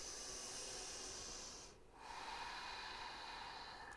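Steady, close breathing from a person holding a yoga pose during a mindful movement session in a studio: a long airy rush of breath that briefly dips near the middle, then resumes with no talking.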